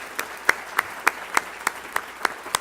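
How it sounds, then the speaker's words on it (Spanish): Audience applause at the close of a conference panel on the digital society, heard as a short, steady burst of clapping with regular sharp claps and no talking. "Démosle por favor un gran aplauso a todos."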